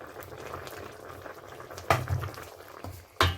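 Chicken curry with coconut milk boils steadily in a pot, giving a continuous soft bubbling, with two sharper splashy bursts near the end.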